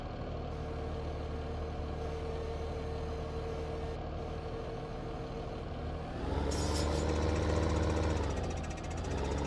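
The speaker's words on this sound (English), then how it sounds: "This tractor I'm using here is really nice." Tractor engine in a logging video game, a steady diesel idle with a faint tonal whine that revs up louder near the end, then settles back slightly, with no talk.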